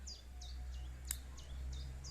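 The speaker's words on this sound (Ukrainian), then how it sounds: "Там таке сонечко зранку, пташки співають." A songbird repeats short bright whistled chirps about every third of a second in a garden on a sunny morning, faint and somewhat distant over a low steady hum.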